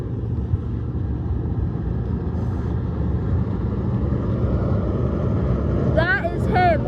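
Race cars roar around the track in a loud, steady, dense engine drone that fills the whole stretch, with a brief higher squeal or voice near the end.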